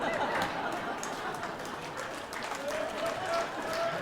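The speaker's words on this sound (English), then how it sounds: "Oh, I love the applause of mediocrity." Comedy club audience applauding a stand-up comedian, a dense continuous wash of clapping with crowd murmur mixed in, steady and moderately loud throughout.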